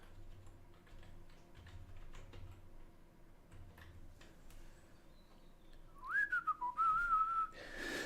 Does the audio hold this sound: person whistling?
yes